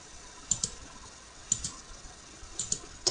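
Computer mouse clicks while a boundary is drawn point by point on a map in solar-design software, a few sharp, quiet clicks, some doubled, spaced about a second apart over a faint background hum.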